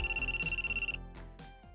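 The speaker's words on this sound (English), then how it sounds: "We got a phone call, folks." A phone ringtone from the visual novel If My Heart Had Wings plays a bright electronic melody with a sustained high tone. The melody then breaks into short repeated chimes, at moderate volume, with no voices.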